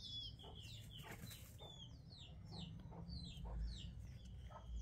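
Young chicks peep in quick, high, repeated chirps close by, soft and steady over a low background hum.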